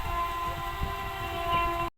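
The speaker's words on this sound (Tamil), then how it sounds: "அங்கே பாருங்கள் ட்ரெயின் போகுது." A train passes at a distance near a village, giving a steady rumbling drone with a sustained horn-like tone running throughout before cutting off abruptly.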